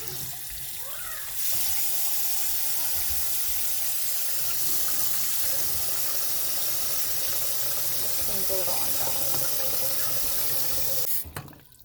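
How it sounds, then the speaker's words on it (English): Water runs steadily from a kitchen tap into a pot being filled for a water bath, a loud continuous splashing rush that holds for about ten seconds before cutting off abruptly. "we're going to fill this up with water"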